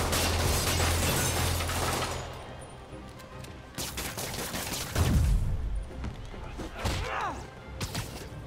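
Gunfire in the Spider-Man PS4 video game as thugs shoot, with dense, loud bursts of shots mixed with crashing and smashing impacts across the whole stretch.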